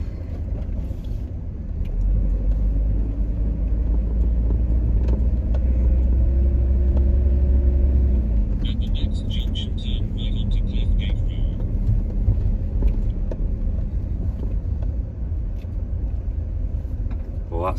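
A car drives along a quiet village road in the Yorkshire Dales, a steady low engine rumble swelling as it passes close, with a voice talking over parts of it and open outdoor ambience around.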